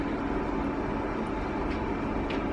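A train at Brussels station, a steady loud rumble of rolling railcars that fills the whole stretch without pause or voices.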